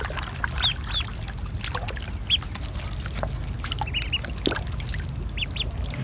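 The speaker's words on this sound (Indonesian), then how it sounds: "Ada bebek." Short nasal duck quacks sound in bursts over a constant low rumble and faint trickling noise, scattered irregularly across several seconds with no speech.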